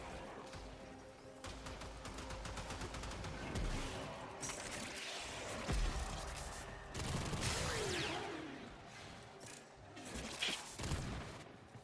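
Gunfire from a weapon in Warframe, fairly faint, with repeated rapid shots and scattered impacts mixed with game effects across the stretch.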